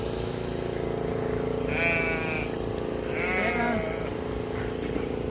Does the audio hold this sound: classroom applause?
no